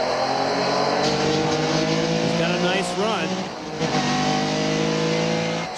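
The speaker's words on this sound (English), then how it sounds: "You can hear how much he's short shifting." A Porsche race car in the 1998 Rolex 24 at Daytona holds a loud, steady engine drone with rising and falling gear changes as the driver short shifts on the banking, heard under a commentator's voice.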